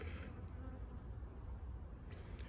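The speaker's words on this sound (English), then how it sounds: "You see these bees here. These bees live here. They're coming in and out that little hole." Bees buzz around the small entrance hole of a hive in a continuous, faint hum, with individual insects flitting close now and then.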